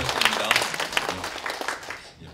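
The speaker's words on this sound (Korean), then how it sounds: "여러분 박수 부탁드립니다." An audience at a 2017 conference on the green history of the welfare state bursts into brief applause, a dense clatter of clapping that fades out within a couple of seconds.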